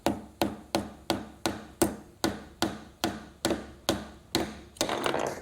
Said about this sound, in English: I can take my nail and I can try and hammer it with a banana.